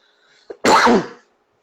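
A single sharp cough, preceded by a short intake of breath, loud and close in an otherwise quiet room.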